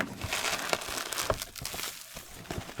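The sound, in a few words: opening a mailbag parcel, packaging crinkling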